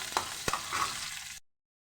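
Chillies, lentils and garlic crackle and sizzle in hot oil for a tempering, with two sharp pops and a brief stirring scrape before the sound cuts off.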